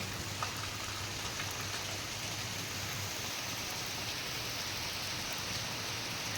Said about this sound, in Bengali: আর দেখো কি বৃষ্টি